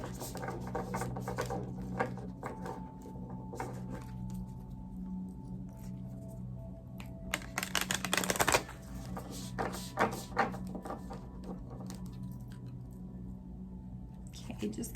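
A deck of tarot cards is shuffled by hand indoors, with soft riffling and rustling bursts and one louder flurry of flicking cards, under quiet background hum and occasional speech.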